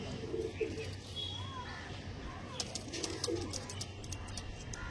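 Pigeons coo softly in low, rolling murmurs near a breeder's loft, with scattered chirps and light rustling over a steady background hum.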